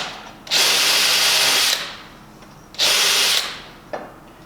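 Power drill boring a 1/8 inch pilot hole into a stainless steel plate: two loud, steady whining bursts of about a second each, separated by a pause, with a brief third touch at the end.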